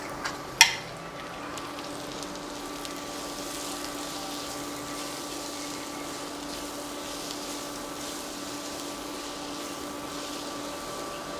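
Ground lentils cooking in a pan after onions, one sharp utensil clink near the start, then a quiet, even sizzle and bubbling that continues alone.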